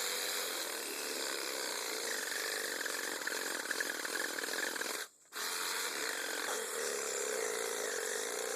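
A Black + Decker 20v cordless reciprocating saw cuts into a tree stump with a loud, close, continuous buzzing rasp. It stops for a brief moment midway, then carries on cutting.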